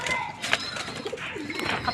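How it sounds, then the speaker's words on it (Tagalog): Pigeons coo softly nearby on a rooftop in low, rolling calls, with faint background noise and no speech. "andito na tayo sa bubong kasama ang mga kalapati ni Hal"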